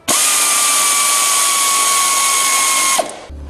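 A power tool tightens bolts on a refitted bike chain cover, giving one loud, steady, high-pitched whirring run of about three seconds that then winds down and stops.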